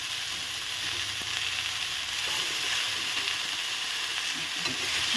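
Spinach frying in a pan with salt, a dense, steady hiss of sizzling oil with faint clicks from stirring, no voices.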